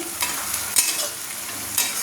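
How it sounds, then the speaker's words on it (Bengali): Onions frying until reddish-brown in a pan for mutton kosha are stirred with a spatula, giving a steady close sizzle broken by a few louder scraping strokes, with no speech. "দেখুন, আপনাকে আমি নেড়ে দেখাচ্ছি, লাল লাল করে ভাজা হয়ে গেছে।"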